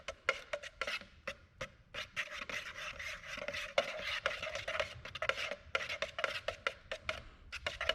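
A stick stirring a can of paint for a show truck frame, producing steady rhythmic scraping and sloshing strokes, close and fairly quiet, with no one speaking.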